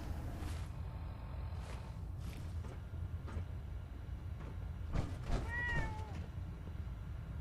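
A single cat meow in the Fallout 4 video game, a short rising and falling cry near the end, heard over a steady low background hum of the game's ambience.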